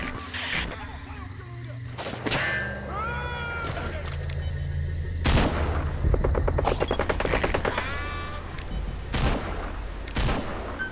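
Gunfire in Metal Gear Solid V comes in rapid machine-gun bursts and sharp shots over heavy battle noise, loud and continuous, with shouting voices among the shots.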